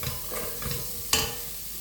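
Onions sauté in a pan for chicken fried rice, giving a steady sizzle with scraping stirs and one sharper scrape near the end.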